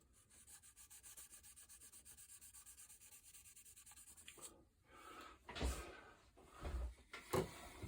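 Fine 6000 grit sandpaper rubbing over a water-based Kaleido ColorWorks paint finish, held close as a steady rhythmic scratchy stroking for several seconds, then fading into scattered louder handling scrapes.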